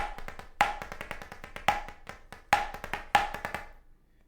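Snare drum plays a single drumline measure, crisp close strikes with quick grace-note drags leading into several accented hits in a tight marching rhythm, fairly quiet and alone, ending in a short decay.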